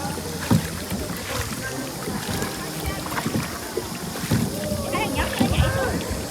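An oar pulled through the water on a small boat on Ha Long Bay gives irregular splashes and paddle knocks, with wind buffeting the microphone, while someone talks over it for most of the clip.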